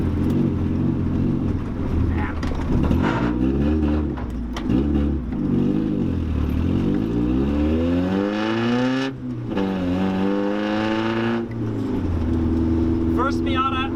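The gutted Mazda Miata's engine drones and swells, revving up and down through a slow U-turn, with wind rumble and faint voices in the cabin.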